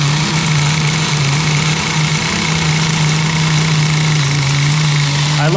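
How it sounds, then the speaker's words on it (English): The nitro engine of a Kyosho Blizzard tracked RC vehicle idles, a loud, steady, buzzing drone with a faint rattle, carrying on evenly throughout while voices speak over it. "Lower the idle? Yeah. I'm gonna lower it."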